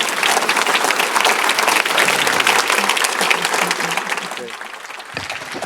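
Luncheon audience at an international symposium applauds in a sustained, loud wave of clapping that tapers slightly near the end, with a voice speaking briefly over it.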